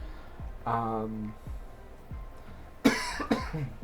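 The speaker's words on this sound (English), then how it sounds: "Why am I coughing?" A couple of sharp, harsh coughs break out near the end, following a stretch of faint voice and background murmur.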